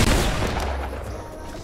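Loud gunfire in a first-person shooter game, a dense burst of shots right at the start that rings out into a decaying roar.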